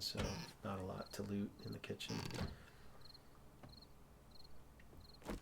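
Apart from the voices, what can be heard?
crickets chirping at night in video game 7 Days to Die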